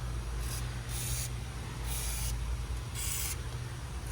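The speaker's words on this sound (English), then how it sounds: "you want to spray everything with WD-40 or rust penetrant" Short hissing bursts from an aerosol can of WD-40 or rust penetrant sprayed on Ford Explorer front hub bolts, four quick sprays spaced about a second apart over a steady low hum.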